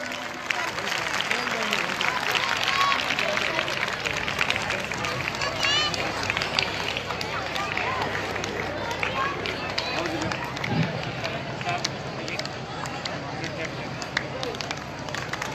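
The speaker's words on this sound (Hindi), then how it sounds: "बच्चों से अनुरोध है कि तालियां बजाते रहें।" Children at an award ceremony keep up sustained applause, a dense, continuous clapping mixed with crowd murmur and voices throughout.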